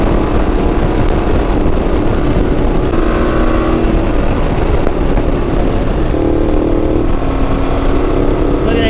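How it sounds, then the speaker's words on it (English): A loud, continuous Ducati 1200 Multistrada Enduro motorcycle exhaust drones throughout, its pitch rising and falling slightly as it revs, heard up close and steady. "I hear that exhaust just revving up"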